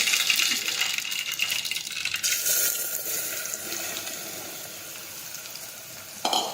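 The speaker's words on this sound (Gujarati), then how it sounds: "હવે આપણે તેમાં રાઈ નાખીશું, હિંગ નાખીશું" Mustard seeds and asafoetida hitting hot oil in a pan, a bright hissing sizzle that flares strongly at first and then slowly settles, close and alone, with a brief burst near the end.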